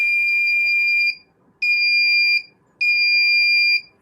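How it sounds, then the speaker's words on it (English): A homemade electronic buzzer intrusion alarm, wired to a pin switch on a cardboard house door, gives three steady, piercing high-pitched beeps, each about a second long with short pauses, close and loud with no talking. "this is the simplest electronic buzzer we can make"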